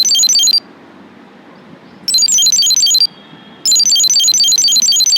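A smart wallet tracker's shrill electronic alarm beeps in rapid high-pitched bursts, repeating three times with brief quiet gaps between.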